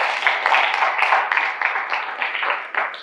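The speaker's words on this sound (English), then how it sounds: "Please a round of applause for them." Attendees at a young professionals' leadership forum give a round of applause. Close, continuous clapping with a thin, band-limited tone holds steady throughout before tapering slightly.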